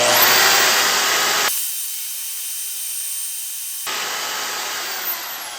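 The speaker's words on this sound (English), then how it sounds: "another cool thing about it is I can cut it with my bandsaw" A bandsaw cuts through a knife blank of steel just over 1/8 inch thick, a loud broadband grinding hiss that drops to a quieter running whine partway through, then returns to full cutting noise.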